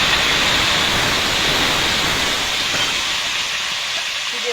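Pointed gourd dropped into hot oil in a wok gives a loud, continuous broadband sizzle that stays steady throughout, close and alone.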